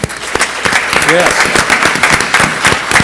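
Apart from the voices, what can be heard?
audience applause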